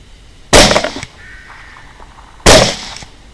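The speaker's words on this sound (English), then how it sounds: "So I decided to shoot him with my Maker Rex 110 grain bullets loaded by Druid Hill Armory into Starline brass" Two loud rifle shots about two seconds apart, each a sharp broadband crack with a short decaying tail, fired from a 6.5 Grendel TX-15 carbine with 110 grain bullets at a hog outdoors.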